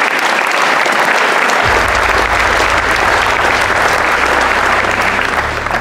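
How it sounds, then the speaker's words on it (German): Loud, steady applause from an audience at a real estate award ceremony, continuous dense clapping throughout with no speech over it. "Großer Applaus"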